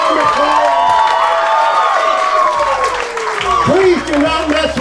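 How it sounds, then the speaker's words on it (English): Wedding guests at a reception applauding and cheering, a loud crowd roar with claps and whoops, while a voice speaks over the noise. "Ladies and gentlemen, give a round of applause for Connor McMillan."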